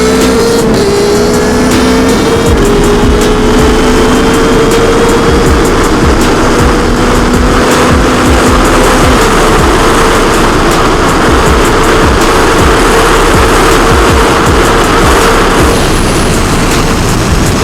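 Yamaha R9 motorcycles, 2025 model, pulling hard in second gear from a rolling 60, a loud continuous engine roar with rising tones and heavy wind rush throughout.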